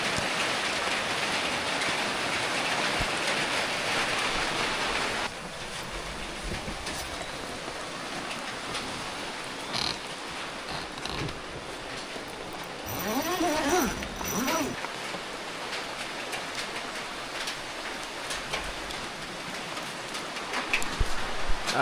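Heavy rain pours steadily onto a campervan at a rural retreat in Baling, a dense continuous hiss close by throughout, with people talking faintly beneath it.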